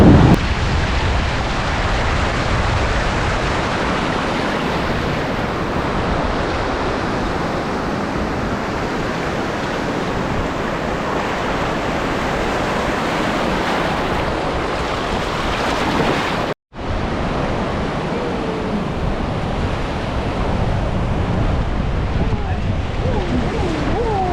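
Ocean surf on Seminyak beach in Bali rolls continuously in a loud broadband wash, with wind buffeting the microphone and a brief dropout near the end; people talk over it at times.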